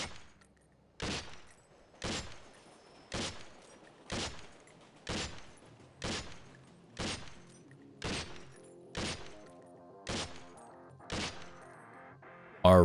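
M4A1 rifle in the game SWAT 4, fired as about ten separate single shots at a steady one-second rhythm, each a sharp loud report with a short decaying tail, heard alone.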